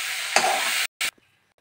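Okra fried for five minutes in a pan is stirred and scooped out, a close sizzling scrape that cuts off abruptly, followed by one brief burst of frying and then near silence.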